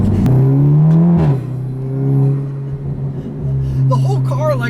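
A catless exhaust on a 2009 Audi TTS tuned to APR Stage 2 drones loudly up close through an upshift, with the engine tone dropping and then settling into a steady, booming note.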